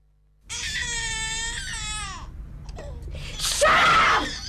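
Screaming and crying of a baby in a child abuse public service announcement, loud wailing cries with breathy sobs, a brief pause, then a louder renewed shriek near the end.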